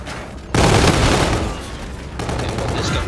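Gunfire from a gun in Call of Duty: Infinite Warfare, a loud, sudden burst of rapid automatic shots that starts abruptly and continues, followed by a second sustained volley of firing.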